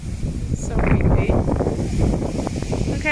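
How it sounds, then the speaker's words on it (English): Gusty outdoor wind buffets the microphone at a playground, a steady low rumble lasting throughout, with an adult talking over it. "So windy."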